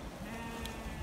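One brief, faint bleat from a sheep on a Pembrokeshire farm during tupping season, heard over steady outdoor ambient noise.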